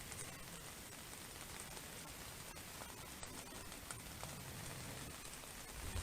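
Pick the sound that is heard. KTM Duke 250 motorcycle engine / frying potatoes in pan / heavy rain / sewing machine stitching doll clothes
heavy rain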